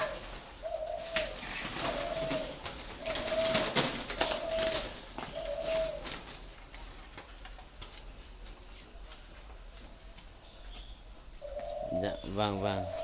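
A flock of spotted doves cooing in repeated two-part calls, fairly close, with brief rustling and a pause before another coo near the end; faint background noise under the calls.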